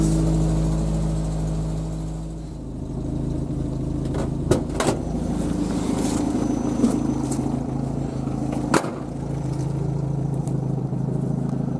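An old vehicle's engine idles steadily after starting, a loud, continuous mid-pitched rumble outdoors in a forest setting, with a few sharp knocks and clunks breaking through the drone.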